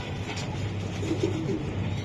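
A black checker pied racing pigeon gives soft, low cooing in short murmuring phrases. The sound is close and steady over a constant background hiss, with no one speaking.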